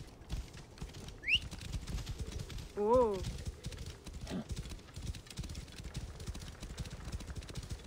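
Horse hooves clip-clop steadily in Assassin's Creed Origins, a continuous run of hoofbeats beneath game dialogue, with a brief whinny-like call and a short exclamation from a voice.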